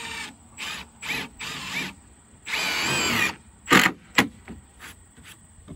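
A power drill drives screws into a picture-framed deck stair tread in close, loud bursts of whirring, several short runs and one longer one, followed by sharp clicks and clacks, with no talk.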